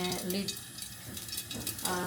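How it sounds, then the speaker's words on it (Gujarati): Mustard seeds popping and crackling in hot oil in a pan during tempering, a steady close sizzle with scattered sharp pops throughout. "તો અહીંયા રાઈ ફૂટતી હતી"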